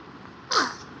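A single sharp sneeze from a child with a cold, close and fairly soft, rising out of quiet indoor background noise and fading quickly.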